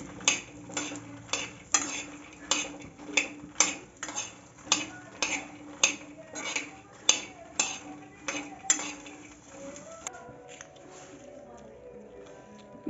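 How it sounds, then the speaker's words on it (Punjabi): Fox nuts (makhana) roasting in a spoonful of ghee are stirred with a metal spoon that scrapes the pan in a regular, repeated rhythm about twice a second. Near the end the scraping gives way to a softer, quieter stir. "ਇਹ ਆਪਾਂ ਫੁੱਲ ਮਖਾਣੇ ਲਏ ਆ 1 ਚਮਚਾ ਘਿਓ ਦਾ ਵਿੱਚ ਪਾ ਕੇ, ਅਤੇ ਇਹਨਾਂ ਨੂੰ ਰੋਸਟ ਜਿਹਾ ਕਰ ਲਾਂਗੇ"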